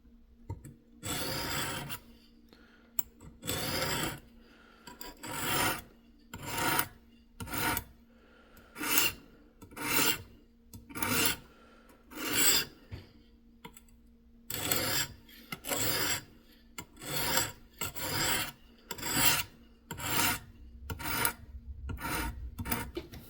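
A Work Sharp Precision Adjust sharpener draws across a knife edge in repeated rasping strokes, close and distinct. The strokes come in bursts with short pauses between them, and a faint steady hum sits underneath.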